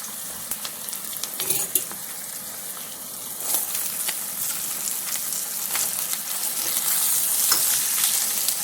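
Cube steak sizzling steadily in a hot pan, a continuous frying hiss with occasional crackles and spatters that builds slightly toward the end.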